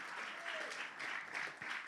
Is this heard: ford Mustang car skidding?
no